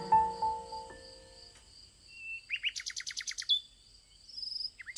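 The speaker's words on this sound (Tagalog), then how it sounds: "Nagsimulang humuni ang munting ibon at sinabayan ito ng prinsesa." A small bird chirps in quick, high trills and tweets, close and clear, with a run of rapid repeated notes over a quiet background.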